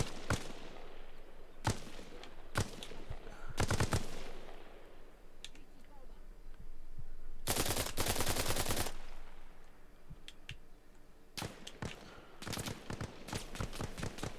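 Gunfire in the military shooter Arma Reforger, in sharp separate shots and dense bursts of rapid fire spread across the scene, some close and loud with short echoing tails.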